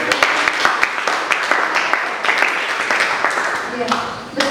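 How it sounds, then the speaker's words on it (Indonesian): Applause from an audience at an Indonesian talk, steady and moderately loud with sharp individual claps standing out, while a voice speaks over it toward the end. "tepuk tangan dong"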